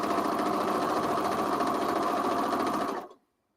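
A sewing machine runs a steady straight stitch along a quarter-inch seam on a tote bag, its fast even mechanical chatter continuous and close for about three seconds before stopping abruptly.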